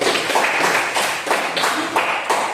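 Students in an Indonesian classroom clapping together, a loud, dense patter of hands in rhythmic bursts that swell and dip, close by and without talk over it.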